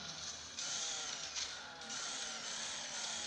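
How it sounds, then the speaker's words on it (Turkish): A video-game saw mounted on a souped-up car in Earn to Die gives a steady, buzzing mechanical whine that holds fairly constant with slight surges, faint overall and without talk. "Testerenin sesi de çok güzel ha."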